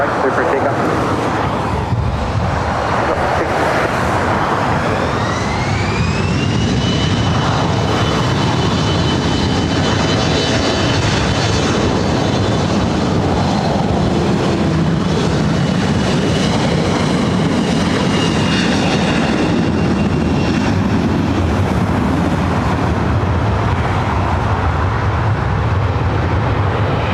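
An airliner on its takeoff roll from runway 24 Right at LAX gives a loud, sustained jet-engine roar with a rising whine, steady and close for nearly half a minute, joined by some talk.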